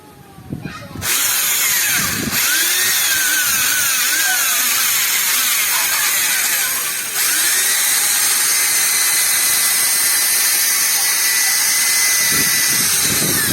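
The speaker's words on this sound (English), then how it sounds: "It's only a drill bit machine." A loud 210-watt electric drill, used as a polisher for buffing a headlight, whirs continuously with a high whine after a brief start-stop, dipping slightly once before running steadily to near the end.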